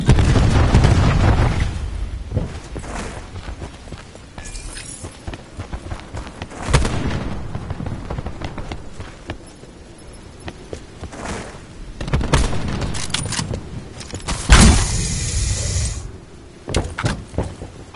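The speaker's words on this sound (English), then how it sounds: "Cluster grenade inbound." Cluster grenade blasts and gunfire in a PS4 shooter game, with loud booms at the start and again midway and late, separated by bursts of shots and mechanical game noise.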